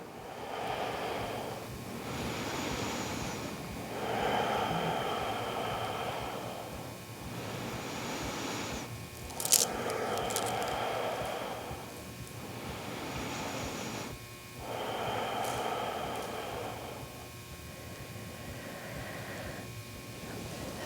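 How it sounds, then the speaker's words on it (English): Slow, deep breathing during yoga practice, long airy inhales and exhales rising and falling in an even rhythm of roughly two-second breaths, close and soft, with no talking. "Three more inhales, 3 more exhales"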